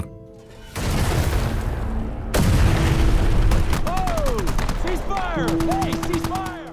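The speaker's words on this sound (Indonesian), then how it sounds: "langsung saja mereka menutup baku tembak tersebut dengan serangan mortir" War film battle audio from an Afghanistan valley firefight: a sudden loud mortar boom opens a dense roar of explosions and gunfire, a second heavy blast follows, and whistling, sweeping tones ring through the sustained din.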